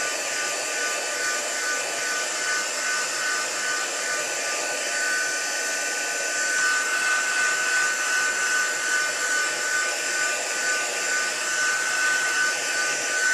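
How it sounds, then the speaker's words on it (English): An embossing heat tool blowing hot air to dry stamped gold-embossed card: a continuous, fairly loud whirring hiss that holds steady for the whole stretch. "I'm going to give this a little bit of a dry with my heat tool."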